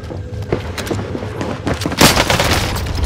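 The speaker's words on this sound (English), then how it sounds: "We're taking fire!" Gunfire and explosions in the video game Call of Duty: Modern Warfare, a dense run of booming shots and thuds with a louder burst near the end, loud and continuous through the clip.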